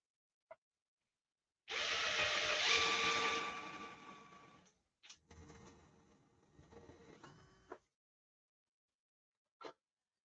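Power drill whirring in a workshop while parts of a model aircraft are glued and fitted, one sustained run of a few seconds followed by shorter bursts and brief clicks.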